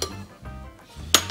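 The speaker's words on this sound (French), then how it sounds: "On les met ensuite dans une casserole qui ne soit pas trop grande et qu'elle soit pleine." Quartered mushrooms dropped into a small saucepan, giving a few soft knocks and a sharper metallic clink near the end, close and fairly quiet with no voices.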